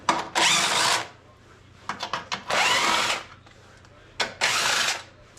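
A power tool whirs in three bursts, each about a second long, with short clicks and taps between them, during work on the gearcase of a Honda HS928 snowblower. The sound is close and loud, and nobody speaks.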